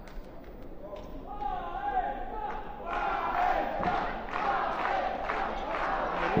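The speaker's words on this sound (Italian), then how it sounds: "Già Faenza si sente dagli spalti, carichissimi i nostri tifosi." Basketball fans in the stands at a Padova versus Faenza game, chanting and cheering loudly together, their voices swelling midway and holding on, with a commentator's voice over the crowd.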